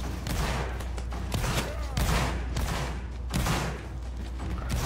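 Musket volleys in a Napoleonic Wars video game battle, dense crackling gunfire with repeated booming bursts over constant battlefield noise, with players talking over it.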